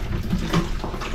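Water runs and splashes into a rice pot in a kitchen sink, a steady close wash with a couple of brief brighter splashes, no talking.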